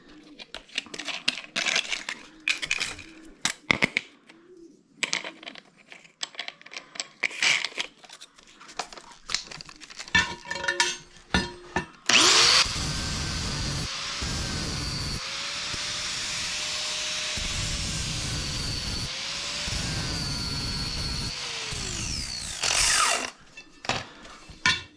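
A flap disc grinds the metal tip of an ATV field cultivator. It starts as scattered clanks and handling noises, then becomes a loud, steady abrasive hiss with a few short pauses before it stops.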